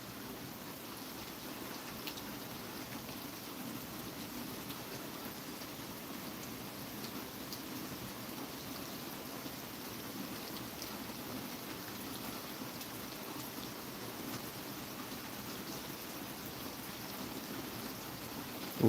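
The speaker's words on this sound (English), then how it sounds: "Raining nicely here." Steady, soft rain patters continuously with a constant hiss, no voices, fairly quiet and even throughout.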